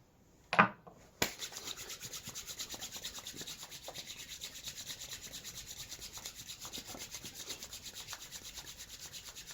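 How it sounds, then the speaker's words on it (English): Hands rubbed together with oil, a soft steady rhythmic swishing friction repeating quickly and evenly, quiet and close, after a brief louder rustle at the start. "Rub your hands together till they're so hot they burn to the touch."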